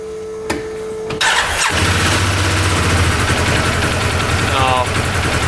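A UTV engine with a fault that leaves it running on only one cylinder cranks over after a quiet moment, then catches and runs with a loud, rough, steady drone to the end.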